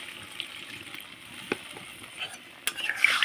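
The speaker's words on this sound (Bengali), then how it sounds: "এবার আমি পরিমাণ মতন জল দিয়ে দিচ্ছি" Water is poured into a pan of frying egg curry made with spiced egg fritters, producing a faint, soft sizzle with light scraping stirs and a brief rise in hiss at the end.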